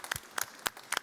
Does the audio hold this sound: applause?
yes